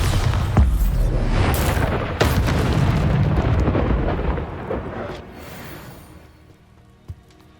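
Bombarda spell blast in Hogwarts Legacy: a heavy booming explosion with several loud thumping bursts and a crackling rumble that gradually fades, ending with one small sharp impact near the close.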